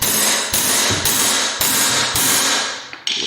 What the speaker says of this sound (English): we're going to hit that with a hammer, just pry it away from the wall